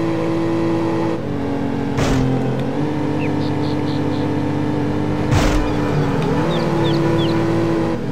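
A Ferrari's engine revs hard and steadily in Need for Speed 4: High Stakes racing, loud and close, with brief whooshes and shifts in pitch from other cars passing.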